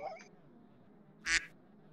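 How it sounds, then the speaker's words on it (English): A single loud duck quack sound effect plays during a livestream of the motocross game MX Bikes. A brief voice comes just before it, then quiet. "done the quack sound"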